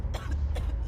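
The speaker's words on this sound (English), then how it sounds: "You can hear her like coughing." Two quick, harsh coughs from a single female character's voice in The Last of Us Part II, close and sharp, back to back within a second.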